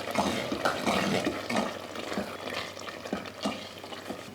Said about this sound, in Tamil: இப்போ பார்த்திங்கன்னா கொஞ்சம் கசூரி மெத்தி சேர்த்துட்டு கலந்து விட்டுருவோம்